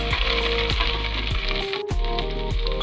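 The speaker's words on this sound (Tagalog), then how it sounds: "Ilagay po tayo ng kaunting mantika. Tapos ilagay na po natin ang ating sibuyas." Onions sautéing in a little oil for buto-buto caldereta, a steady close sizzle with regular scraping strokes of a spoon stirring through the pan, no talking.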